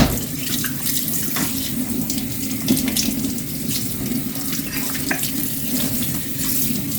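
Water runs steadily from a tap in a home kitchen, a constant close splashing hiss with a few brief clinks, and no talking.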